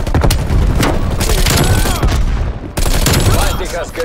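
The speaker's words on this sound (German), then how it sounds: "Werfe Granate! Granate ist raus!" Grenade blast and gunfire in Call of Duty Cold War multiplayer, with loud continuous volleys of rapid shots, booms and clattering effects, a brief cut midway, and in-game voices calling out over the din.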